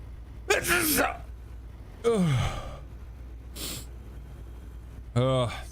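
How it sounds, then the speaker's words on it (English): A man sneezes several times in sharp bursts, with breathy sighs and a snort between them, heard close inside a vehicle while he drives through Texas. "sneezing and driving is not really a great thing"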